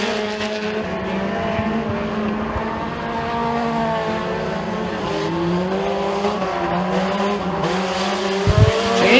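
Mini stock race cars duel for position on the oval at Freedom Motorsports Park, engines droning loud and close in layered, wavering pitches that rise and fall through the corners, with a short tire scuff near the end.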